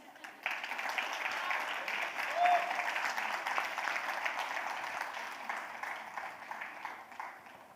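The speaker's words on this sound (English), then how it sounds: "give a huge round of applause to him" Audience applause following an inspirational talk at a summit on play and childhood, a sustained full-room clapping that holds steady for the whole stretch, dense and even, with a brief swell midway and no spoken voices over it.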